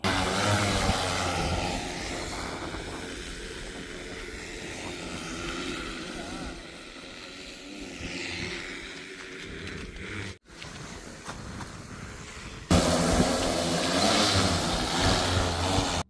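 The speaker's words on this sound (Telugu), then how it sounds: "కొన్ని సెకండ్లలో డ్రోన్ గాల్లోకి లేచి రైతు చెప్పిన దిశల్లో ఆటోమేటిక్గా పిచ్చిగారి మొదలవుతుంది" A steady mechanical whir of an agricultural spraying drone hovering and flying over farmland, constant droning tone with slight shifts, a brief cut midway, then resuming louder.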